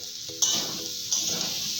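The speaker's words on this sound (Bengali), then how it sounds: "এখন এই চচ্চড়িটা করতেছি আর আলু ভাজা করবো।" Chorchori, a Bengali mixed vegetable dish, sizzles and is stirred in a pan, with two sharper bursts of frying as ingredients are turned or added over a steady close hiss.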